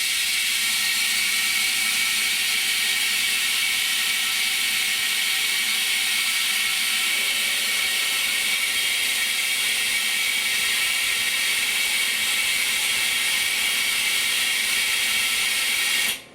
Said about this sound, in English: I put the vacuum on so it holds it while I'm wiping it.